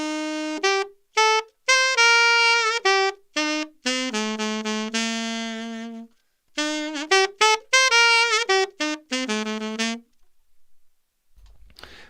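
An alto saxophone plays a bouncy melody, with short separated notes and a few held ones in quick phrases, close and clear with no talking, ending in a brief quiet tail.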